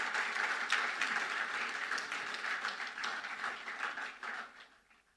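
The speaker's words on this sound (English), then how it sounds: "please help me with another round of applause" A lecture audience applauds steadily in a hall, a dense wash of many hands clapping that holds evenly for several seconds before tapering off at the end.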